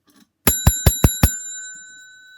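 A small bell rings five quick, bright dings in a row, then its tone fades out into silence.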